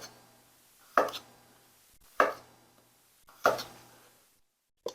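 A knife chops through potatoes on a cutting board in three separate sharp cuts about a second apart, each with a brief double knock, then a final short tap, with quiet between strokes.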